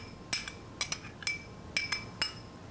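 Grated carrot being mixed into hot pasta, heard as sharp metallic clinks of a utensil tapping against a bowl, about seven or eight light strikes in an irregular rhythm, close and fairly quiet.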